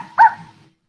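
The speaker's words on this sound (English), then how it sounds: "And there is a dog." A single sharp dog bark from a played video, loud and brief, trailing off into a short muffled tail before silence.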